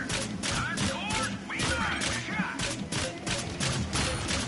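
Rapid electronic gunfire from an arcade shooting game plays in continuous bursts, loud and steady throughout, with game effects and faint voices mixed in.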